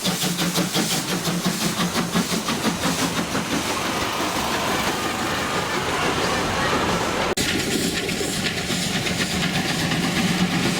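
An old narrow-gauge train on the Feistritztalbahn in Austria rumbles steadily through a valley, wagons jolting and rattling with a loud continuous clatter and engine drone throughout.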